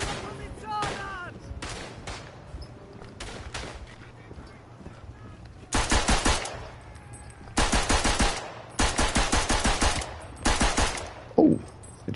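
Video game gunfire on the Western Front, with bursts of rapid machine-gun fire in loud, close clusters that alternate with quieter gaps holding faint distant shots and brief voices.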